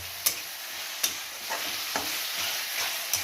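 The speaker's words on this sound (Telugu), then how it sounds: "ఈ అల్లం వెల్లుల్లి పేస్ట్ని వేసి ఒకసారి బాగా కలిపెట్టేస్తున్నాం" Onions, green chillies and ginger garlic paste stirred in a hot pan for chicken fry, a soft continuous sizzle punctuated by four or five sharp spoon taps against the pan.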